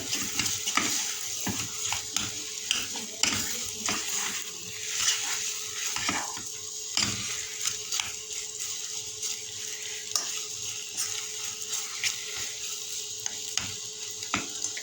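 Boiled potatoes are stirred as they fry in a pan, with a constant close sizzle broken by repeated scraping and knocking strokes from the utensil against the pan, and no talking.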